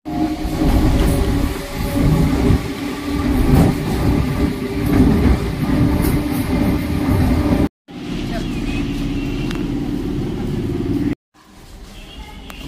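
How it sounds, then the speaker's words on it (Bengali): A train pulls out of Majhihat station, its steady rumble and clatter of wheels on rails loud and near. Voices carry over the noise before two brief cuts. "আমরা মাঝিহাট স্টেশনে নামলাম আর ট্রেনটা ছেড়ে দিল।"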